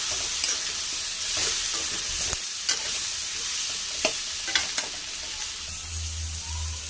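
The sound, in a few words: stirring curry spices with Kashmiri chilli in a pan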